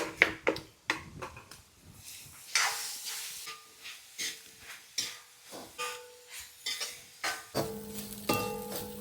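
Food is stirred in a hissing, steaming pan. A spoon makes repeated rhythmic scrapes and knocks against the pan over a soft sizzle, heard close with no talking.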